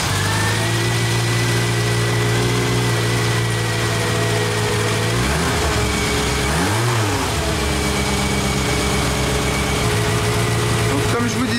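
An old Renault 4L engine with a newly fitted transistorised ignition turns over, catches and keeps running with a rough, steady drone, briefly revving before settling back to idle.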